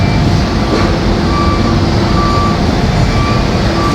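Trucks on a road during a trip from Ipil to Iligan City, a loud continuous roar of traffic and engines with faint repeated beeping tones running throughout.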